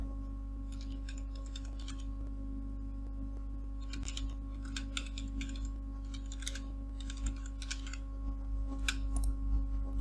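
Computer keyboard keys are tapped in quick clustered bursts of soft clicks while a Photoshop design is typed, faint and close over a steady electrical hum, with short pauses between runs of typing.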